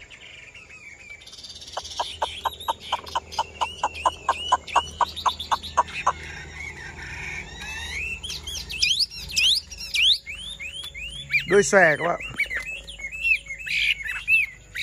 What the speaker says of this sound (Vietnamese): À, chim thuần xách cây hót các bác nhá.